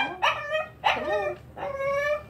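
A basset hound mix dog gives three close, high-pitched whining cries, each rising and falling, separated by brief pauses, with no talking.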